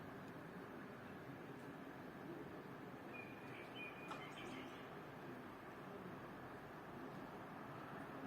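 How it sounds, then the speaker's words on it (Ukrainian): Balcony ambience in the morning with a steady broadband hum, faint bird chirps scattered over it, a few brief higher tweets near the middle. "щоб ви почули, як пташки розмовляють один з одним."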